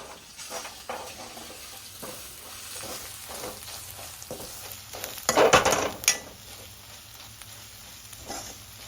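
Spices and chilli powder fry in a pan for gongura chicken, giving a soft, steady sizzle while a spoon stirs and scrapes at intervals, with one louder clattering burst midway.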